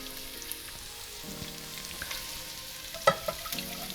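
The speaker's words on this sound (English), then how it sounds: "Okay, it is time to add the milk." A flour roux sizzles steadily in a pan as milk is poured in, giving a soft constant hiss with a brief sharp splashy burst partway through and faint stirring scrapes.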